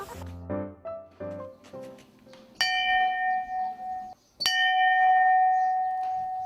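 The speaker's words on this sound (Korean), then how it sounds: "다음 수업종이 울렸습니다." A school class bell rings to mark the next lesson at a small Waldorf-style school, starting with a run of short chiming tones and then two sustained, ringing bell notes that hang and decay, fairly loud and close.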